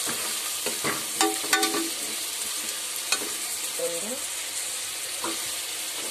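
Prawns frying in a pan for a homemade prawn biryani, with a steady sizzle and the clatter of a spatula stirring close by, plus a few brief tonal clinks over several seconds.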